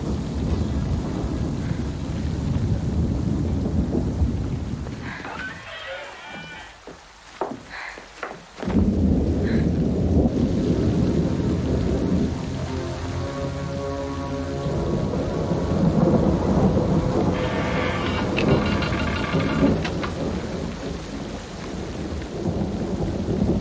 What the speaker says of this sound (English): Rain should stop pretty soon.